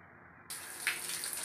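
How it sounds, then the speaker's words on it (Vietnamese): Hot water running from the tap of an Ariston indirect water heater under repair, a steady close splashing flow that starts abruptly and continues alone. "Bây giờ mình xả nước coi là nóng cho nhiều hơn ít nha."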